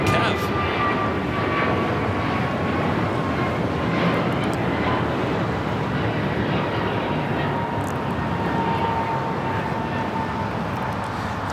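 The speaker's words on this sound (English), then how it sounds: "There's American Airlines 3186 taking off to Lihue on the A321neo" American Airlines Airbus A321neo departing Los Angeles for Lihue, a steady broadband jet roar at moderate distance holding constant throughout, with faint whining tones drifting above and voices murmuring underneath.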